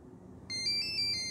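ESC on a ZOHD Alpha Strike 620mm RC plane beeping during throttle range programming: after a quiet lead-in, a high, close electronic tone starts abruptly and holds with slight pulsing, no voice over it.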